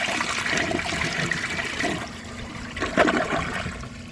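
A 2006 Vitromex Marathon II comfort-height toilet flushes with a washcloth in the bowl, giving a steady rushing swirl of water that runs loud for about four seconds and surges again near the end.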